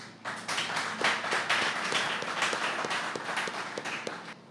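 Audience applause greeting a lecturer at a Café Philo talk on happiness, a dense steady patter of many hands clapping continuously throughout at moderate loudness, with no voices over it.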